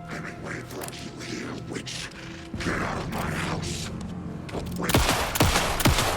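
Alan Wake 2 gunfire rings out as several sharp shots, with mechanical clanks and creaks before them, growing louder toward the end.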